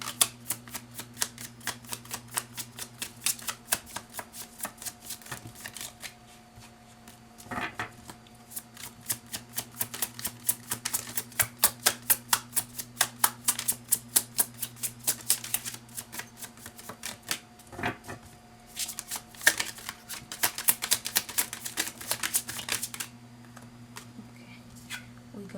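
Tarot cards being shuffled, in long runs of rapid crisp riffling clicks with short pauses between bursts, close and clear.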